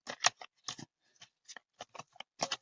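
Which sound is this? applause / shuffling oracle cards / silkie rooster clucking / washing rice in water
shuffling oracle cards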